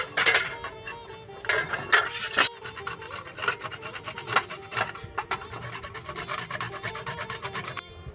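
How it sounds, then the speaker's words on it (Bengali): Beetroot grated against a metal hand grater in a home kitchen, rapid rasping scrapes in quick strokes with a couple of brief pauses, close and clear, nothing spoken. "এই কুড়ুনির সাহায্যে আমি বিটটাকে কুড়ে নেব।"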